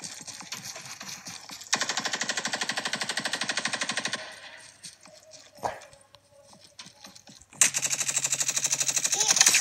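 Gunfire in Call of Duty: two long bursts of rapid automatic fire, loud and close, separated by a quieter stretch with a single sharp shot, with no talking.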